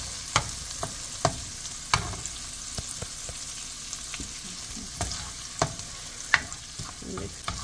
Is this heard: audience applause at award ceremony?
no